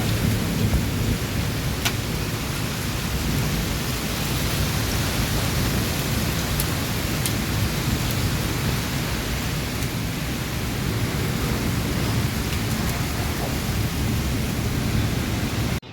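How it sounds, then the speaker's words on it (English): Heavy rainstorm during record-breaking UAE rains, with dense continuous rain roar and rolling thunder filling the whole stretch at steady, loud level. "It's thundering quite badly."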